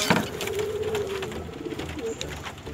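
A fantail pigeon gives a short, soft, close cooing call, with a second brief coo near the end, heard against quiet background noise.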